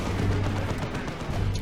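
Dual plasma guns on guardsmen firing in a Dawn of War 2 Retribution Warhammer 40k battle, a dense, steady rumble of weapon fire and explosions with no clear breaks.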